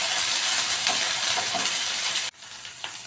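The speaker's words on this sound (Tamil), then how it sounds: "ஒரு பேனில் ஆயில் ஹீட் ஆனதும் 2 வெங்காயம் கட் பண்ணி இது மாதிரி ஆட் பண்ணிக்கலாம்." Onions with ginger garlic paste sizzle loudly in hot oil in a pan for a mutton Maggi dish, a dense, steady hiss that drops sharply to a quieter sizzle near the end.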